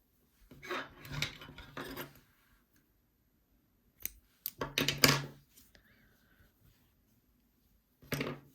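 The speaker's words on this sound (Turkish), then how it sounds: "Daha sonra şuradan ipimi keseceğim" Scissors snip through crochet yarn in a few short bursts of crisp cutting and rustling, separated by quiet pauses, close and fairly soft.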